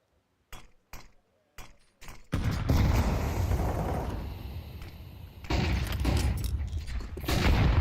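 A grenade explodes in a Counter-Strike pro match. A few sharp gunshots ring out first, then a loud, rumbling blast roars and lingers for several seconds, swelling again near the end.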